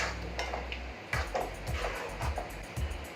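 A utensil stirs spinach paste into palak paneer in a pan, soft rhythmic scraping and clinking strokes close by, with a faint sizzle underneath and no talk.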